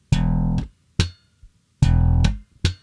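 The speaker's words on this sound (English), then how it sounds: "that's the open hammer pluck" Slap bass using the open hammer pluck technique on muted dead strings: four short percussive bursts, two longer thumped notes and two quick clipped plucks, close and loud with no talk.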